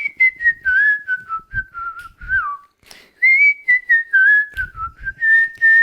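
A melodic pop whistle from a song carries a bright, clear tune in short phrases, close and prominent, with soft backing sounds underneath and no voices.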